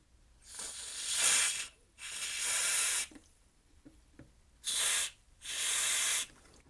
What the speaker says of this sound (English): I'm going to just spray some contact cleaner in these pots.